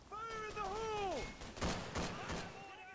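MG42 machine gun fire in Call of Duty 3 on Veteran difficulty, heard as a short cluster of sharp gunfire bursts in the latter half, after a player's voice speaks over the game audio.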